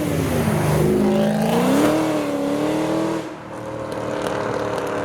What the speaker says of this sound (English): turbo sounds from the Mark 1 MX5